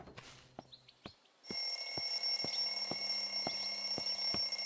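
A shrill electronic ringing tone starts abruptly and holds steady, with sharp periodic clicks underneath, a telephone ringing loudly in the video game Streamer Life Simulator 2.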